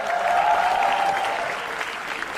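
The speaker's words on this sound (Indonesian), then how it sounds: "Tepuk tangan untuk Insan Nur Akbar." An audience claps to welcome a stand-up comedian, a brief, loud burst of crowd applause with a faint sustained tone running beneath it.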